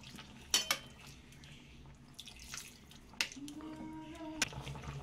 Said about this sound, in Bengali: এবার অল্প পরিমাণ একটু জল অ্যাড করলাম